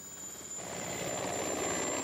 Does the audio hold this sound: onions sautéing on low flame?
no